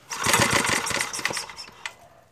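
A Montgomery small engine sputters and fires briefly with rapid, uneven mechanical chatter, then dies away and does not keep running.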